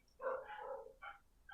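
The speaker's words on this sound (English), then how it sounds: "Oh no, there go my dogs." Pet dogs barking indoors during a live demonstration of DIY MIDI controllers, two or three quick barks and yips, fairly close but moderately quiet, with no talking.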